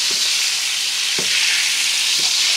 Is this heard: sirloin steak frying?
yes